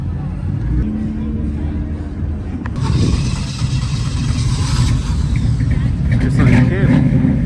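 Car engines at a busy car meet, including a GTR, rumble and rev loudly throughout. A crowd can be heard in the background with people talking and shouting, and the engine noise builds toward the end.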